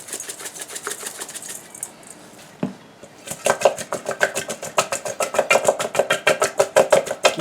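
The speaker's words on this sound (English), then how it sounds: "I'm going to cut them" Quick run of knife chops on a cutting board in a home kitchen, a brief pause and then steady rapid rhythmic strikes, close and crisp.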